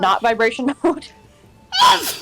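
A person speaks briefly and then lets out one loud, sharp sneeze close to the microphone after a short pause.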